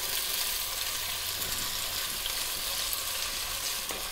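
Onions cook in a hot pan as the base for lamb ragu, giving a dense, even sizzle heard up close without a break.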